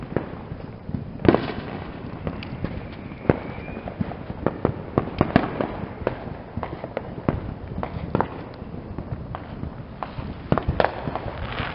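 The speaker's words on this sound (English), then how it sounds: "this is the last Roman candle I'm gonna do for y'all." Roman candle fireworks going off outdoors on a Fourth of July night, a steady run of sharp pops and crackles with bursts repeating irregularly throughout, moderately distant and mixed with background crackle.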